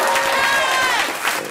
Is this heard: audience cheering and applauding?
yes